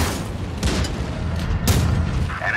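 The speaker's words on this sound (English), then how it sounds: "Enemy armor is hit!" Tank shells striking enemy armor in a tank battle video game, heavy booming impacts and rumbling blasts, loud and dense with overlapping hits.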